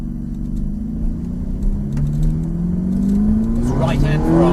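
A sports car engine at a track day revs up close by, its rising pitch climbing steadily as the throttle opens, loud and continuous.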